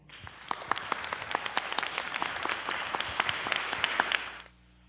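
An audience at a talk on the domestic exhibition welcomes Felix Burrichter and Esther da Costa Meyer with sustained, even applause that stays full for about four seconds, then cuts off abruptly into quiet room tone.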